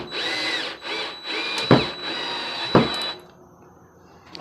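A power drill drives a screw into wood while building a floating shelf, several whirring bursts broken by short pauses, with a sharp crack as the bit bites, then it stops.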